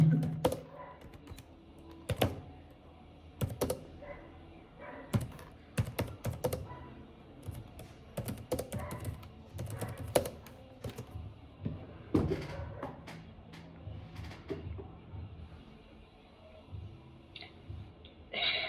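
Typing on a computer keyboard, bursts of quick close key clicks with pauses and occasional louder taps, continuing steadily at low volume in a quiet room.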